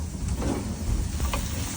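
Fried eggs sizzle in a pan over a wood fire in a barn, a soft, steady crackling hiss heard close and alone for a brief moment.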